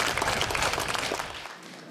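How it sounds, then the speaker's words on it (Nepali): An audience claps together at a Kankai Municipality deputy mayor's public program, a loud, dense burst of many hands that tapers off and fades to quiet. "बुवालाई पनि ताली बजाएर धन्यवाद दिउँ"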